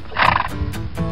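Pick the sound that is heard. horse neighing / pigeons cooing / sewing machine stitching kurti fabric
horse neighing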